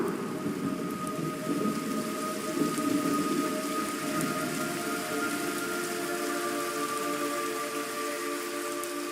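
Steady rain with rumbling thunder in a stormy scene from the video game Metal Gear Solid Delta, a constant wash of falling drops under low rolling rumble, with faint tonal game ambience and no voices.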